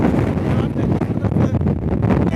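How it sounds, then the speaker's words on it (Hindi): Strong gusting wind buffeting the microphone at the Ghazipur border protest site, a dense continuous roar with rough low-end thumping throughout. "तेज़ी से यहाँ पे तूफान की तरह हवा चल रही है"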